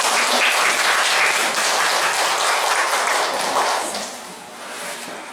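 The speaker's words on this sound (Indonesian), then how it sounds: "Tepuk tangan untuk sekolah Anda" Dense applause from a school audience fills the hall, loud and steady, then thins and fades toward the end.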